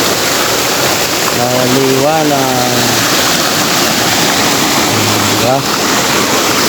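A stream flows at a hiking campsite in Naic, Cavite, its steady broadband rush filling the whole stretch while someone talks over it close by.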